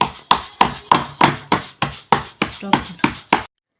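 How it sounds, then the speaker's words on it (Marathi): Ten or so sharp, evenly spaced slaps of hands patting soft dhapata flatbread dough, steady rhythm, close and fairly loud, no talking. "भाकरीला जसं आपण भाकरी थापतो त्याप्रमाणे इथं हा धपाटा थापायचा आहे"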